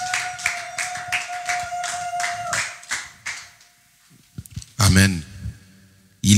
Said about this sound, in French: Est-ce qu'on peut acclamer pour la chorale aussi